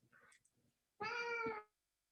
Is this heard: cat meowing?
yes